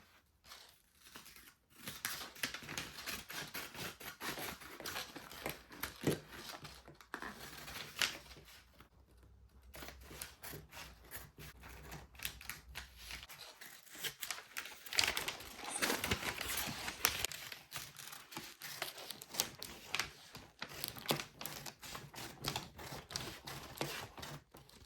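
Scissors cutting through corset fabric, a long run of close, crisp snipping and crunching blade strokes in an irregular rhythm, with brief pauses between cuts.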